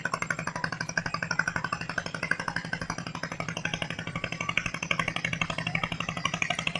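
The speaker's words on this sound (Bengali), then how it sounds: "এই বোটটাই আমাদের ইঞ্জিন বোটটা, বোটে উঠলে এক শব্দের ভীষণ প্রচুর ধ্বনি হচ্ছে বনের মাঝে" An engine boat motors through a forest at Fatrar Bon, its engine chugging in a fast, even, loud pulse that runs steadily throughout, with no talk.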